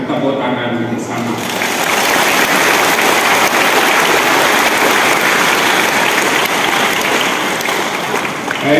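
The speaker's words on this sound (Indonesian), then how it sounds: "maka ungkapan kegembiraan itu kita tandai dengan tepuk tangan bersama." Dense, steady applause from a church congregation at an anniversary celebration fills the space, loud and continuous after a brief opening with speech over it.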